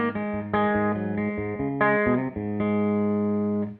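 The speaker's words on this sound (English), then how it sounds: "we're gonna start with this amp kind of clean." Electric guitar played through a Supro Black Magick Reverb TB amp set fairly clean: a few ringing chords and single-note stabs, sustained and bright, close and alone, ending in a fade.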